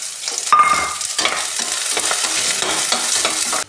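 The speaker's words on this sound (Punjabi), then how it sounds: "ਤੇਲ ਦੇ ਵਿੱਚ ਪਾਵਾਂਗੇ ਅਸੀਂ ਪਿਆਜ਼ ਪਿਆਜ਼ ਨੂੰ ਵੀ ਅਸੀਂ ਗੋਭੀ ਤੇ ਆਲੂ ਵਾਂਗਾ ਫਰਾਈ ਕਰਾਂਗੇ" Onions hit hot oil for a halwai-style cauliflower and potato sabzi, bursting into a bright sizzle with stirring scrapes that continue steadily and up close for a few seconds.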